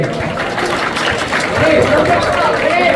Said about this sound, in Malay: Tepuk tangan pada lagi.